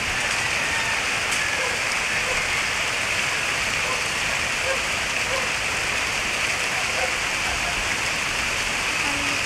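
Floodwater overflowing onto a street in Phase 6 Camarin during an August 2012 flood, a steady broadband rushing wash like heavy rain or a cascade, continuous and fairly loud throughout with no clear voices.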